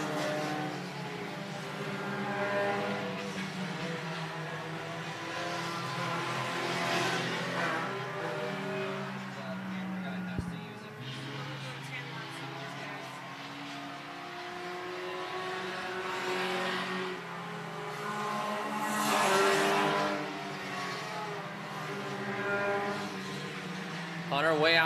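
IMCA Sport Compact race cars racing on the I-76 Speedway oval, a continuous droning roar of engines swelling and fading as the pack circles, under a race announcer's steady commentary.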